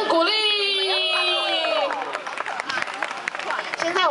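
A concert crowd at a Baisha music event, hosted by a university guitar club with a singer-songwriter, cheers and claps: a long sustained whoop opens, then dense scattered clapping and crowd noise fill the rest, moderately loud throughout.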